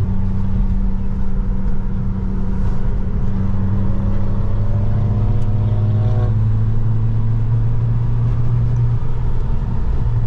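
A modified car drives on roads near the Nürburgring, its engine a steady low drone with rising harmonic sweeps as it accelerates through the gears, loud and close with no talk.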